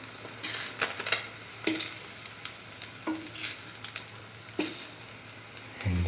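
Food sizzling in a frying pan as it is moved around, a constant hiss punctuated by several sharp scraping and clinking stirs, close and fairly loud with no talk.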